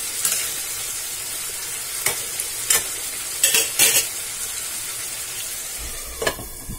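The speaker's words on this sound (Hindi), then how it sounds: "और इसे 7 से 8 मिनट हमें कवर करके छोड़ देना है, बिल्कुल लो फ्लेम पे" Chicken curry simmering on a low flame with a lid on, a steady soft sizzle broken by a few sharp clanks and scrapes of stirring, with no talking.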